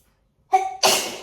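A single sneeze from someone with hay fever: a short voiced intake rising into a loud, breathy explosive burst that fades quickly, close and alone in a quiet room.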